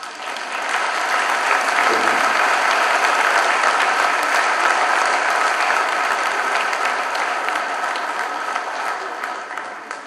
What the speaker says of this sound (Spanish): y lo recibimos con un fuerte aplauso